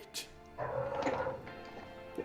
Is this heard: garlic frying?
no